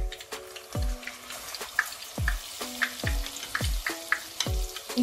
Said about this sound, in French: quand notre huile est bien chaude, on va renverser notre pâte de beignet